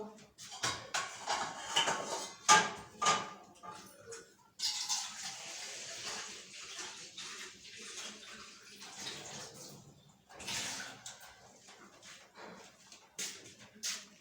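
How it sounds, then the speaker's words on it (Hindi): Water poured from a tap into a cooking pot of chickpeas in a village kitchen, splashing in bursts with clattering between pours and a dog whimpering nearby, at a moderate, fairly quiet level. "इसके अंदर पानी डालेंगे ताकि इसी तरह से गल जाए।"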